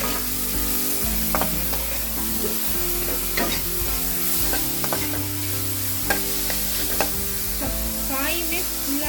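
Beans, carrot and cabbage stir-frying in a pan for veg noodles, a steady sizzle with repeated clinks and scrapes of a spatula stirring, close and continuous with no talk.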